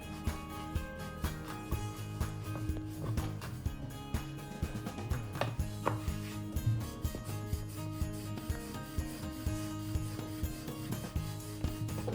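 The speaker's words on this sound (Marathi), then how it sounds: "आता याची चपाती लाटून घेणार आहे. चपाती लाटून घेते." A rolling pin scrapes back and forth over samosa dough being flattened into a chapati, a steady rubbing and rasping on the board beneath a bed of background music.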